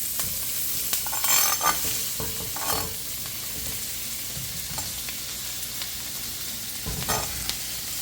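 Vegetables sizzle and crackle in a frying pan, with occasional scraping and stirring sounds over the steady hiss.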